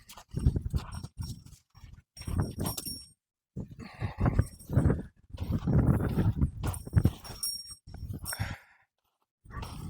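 Horse hooves clop and shuffle in uneven, close steps as an unbroken horse moves for the first time under a saddle, with soft thuds and rustling between pauses.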